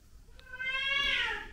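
A cat meows loudly and close by, one long drawn-out call that rises and swells toward the end, with a faint voice murmuring softly beforehand.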